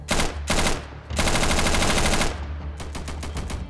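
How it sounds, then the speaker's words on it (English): Rapid bursts of automatic gunfire in the video game Insurgency, several loud, close, staccato volleys separated by short gaps, with no talking over them. "Hostile spotted and I get fucking sniped."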